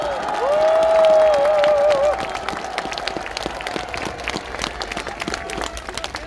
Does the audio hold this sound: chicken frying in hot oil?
no